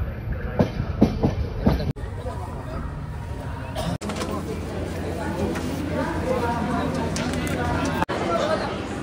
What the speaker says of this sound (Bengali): আমরা এখন পার করবো যমুনা নদীর উপর নির্মিত লোহা পুল।